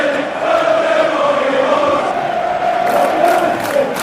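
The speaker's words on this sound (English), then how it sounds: "the crowds can chant, "We'll do all what we want," all they like" Football crowd in a stadium at a Manchester United versus Chelsea match, a loud sustained mass of voices chanting and roaring together, with a rising swell toward the end.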